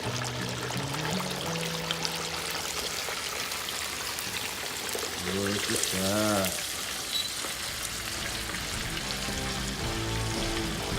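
Hot grease drips and trickles off a freshly fried whole turkey as it is lifted from the fryer outdoors, a steady wet pattering and sizzle under brief nearby talk.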